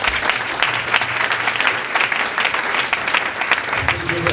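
A congregation at a healing service in Brazzaville claps continuously in praise, a dense, steady wash of many hands with faint voices mixed in, sustained throughout.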